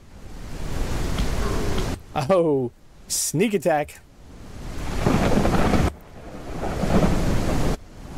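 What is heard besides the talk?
rain and thunder in video game SurrounDead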